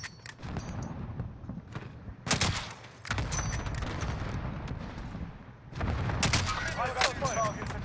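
Explosions from a cluster strike in the video game Call of Duty: Modern Warfare, several loud booms and bursts of gunfire spread across the scene, with voices heard in between.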